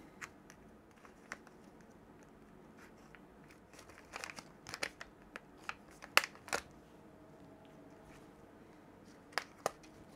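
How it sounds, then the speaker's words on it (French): Small scissors snip plastic parts and bags during assembly of a vintage Tamiya Egress RC car kit, scattered faint close clicks and crisp cuts with quiet handling noise between them. "Ciseaux."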